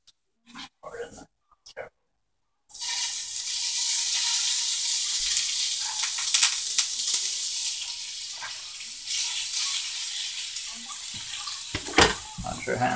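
Pork chops seasoned with onion and garlic powder fry in a pan on a stove, giving a steady, broad hiss that rises after a few brief knocks and stays loud and continuous with small crackles throughout.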